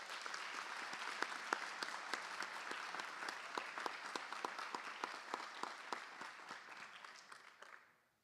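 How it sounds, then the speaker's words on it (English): Dense, steady applause from an audience at a school board meeting honoring all-region high school tennis players; the clapping continues for several seconds, then fades out at the end. "Let's give these tennis players a round of applause."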